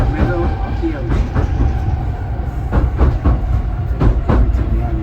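Passenger train crossing a river on a long seaside crossing, heard from inside the carriage as a loud, steady rumble with rhythmic clickety-clack wheel beats over rail joints.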